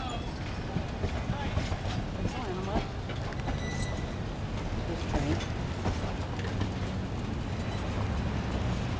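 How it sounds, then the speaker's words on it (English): Narrow gauge train running with a steady rumbling, clattering noise and faint rhythmic clicks throughout, heard fairly close and continuous. "This train."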